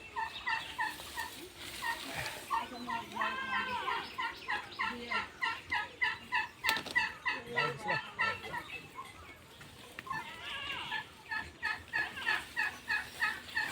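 Turkeys gobble on a farm in a steady run of repeated bursts that rise and fall rhythmically, fairly close, with faint voices talking in the background.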